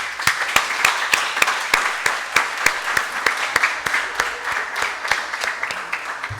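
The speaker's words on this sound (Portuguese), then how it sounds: "gostaria de pedir uma salva de palmas a cada pessoa incrível que está sentada aqui na minha frente" An audience at a youth council session claps, a moderately loud spread of many hands, with sharp, regular strikes standing out over a softer continuous patter.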